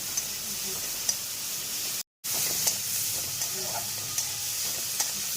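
Prawn heads frying with salt and turmeric in a pan give a steady close sizzle with light stirring scrapes, broken by a brief dropout near the middle.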